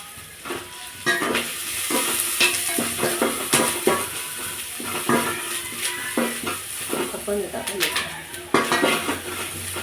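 Onions fry in a pan for a Tamil fish curry, with frequent metal clinks and scrapes of a utensil stirring against the pan over a steady sizzle, up close with no talk.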